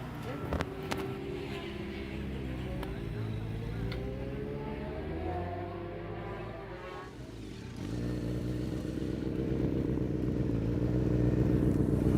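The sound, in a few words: motorcycle being ridden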